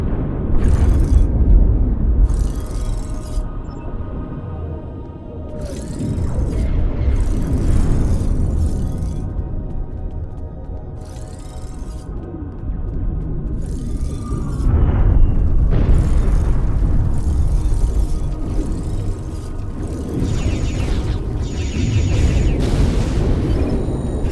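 A force field emitter in the Star Trek Online video game is blown apart by repeated loud explosions, heavy booms and bursts rolling one after another over a rumbling din with no voices.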